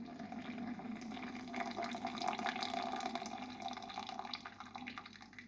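Fresh espresso coffee is poured into a mug as a steady, soft liquid trickle that runs continuously and fairly quietly throughout.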